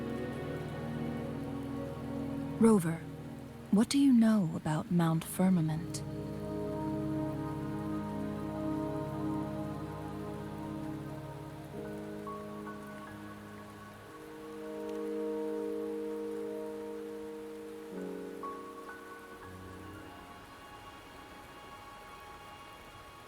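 Steady rainfall in the Wuthering Waves video game on the way to Mt. Firmament, a soft wash running beneath a character's spoken line and sustained musical tones throughout.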